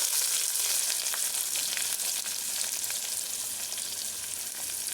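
Onions frying in hot oil in a pan for a drumstick, brinjal and potato curry, a steady loud sizzle and crackle with occasional stirring, no voices.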